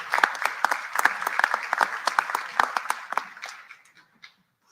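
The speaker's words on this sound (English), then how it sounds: "Please greet him with a round of applause" A graduation-ceremony audience claps for a guest speaker, a dense burst of hand claps that fades out over about four seconds with scattered final claps at the end.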